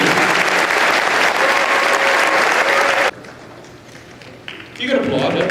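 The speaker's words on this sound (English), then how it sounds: "Please join me in a round of applause for this entire committee." An outdoor crowd at a Veterans Day opening ceremony for The Wall That Heals applauds the organising committee, loud sustained clapping that stops abruptly midway, followed by quieter ambience and someone speaking.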